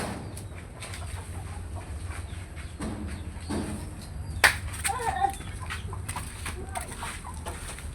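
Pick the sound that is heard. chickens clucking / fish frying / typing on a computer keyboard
chickens clucking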